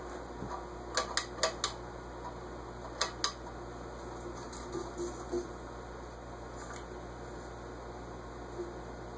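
An SMC model A52 ceiling fan hums steadily with a faint whir, punctuated by a few sharp ticking, rubbing clicks in small clusters as something rubs while it runs; quiet overall, no voices.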